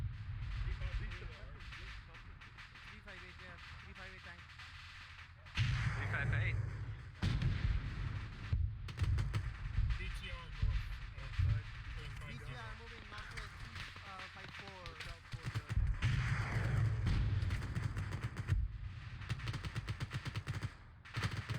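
Gunfire and heavy explosions in Arma 3 as a TOW vehicle is destroyed, with loud booming blasts and bursts of fire around 6 and 16 seconds over continuous battlefield rumble, while voices talk over the radio throughout.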